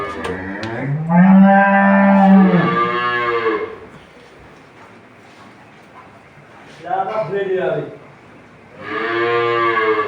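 Holstein Friesian dairy cows moo loudly nearby, three long drawn-out lows separated by short pauses.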